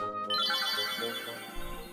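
A catchy chiming tune from the phone booth in the Link's Awakening remake video game, bright bell-like notes ringing alone and clearly, with a low thump entering near the end.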